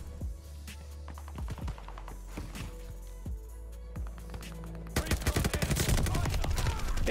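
Rapid gunfire from a Call of Duty Vanguard match, Type 100 setup, with scattered sharp shots early on that build into a dense, loud automatic burst during the last two seconds.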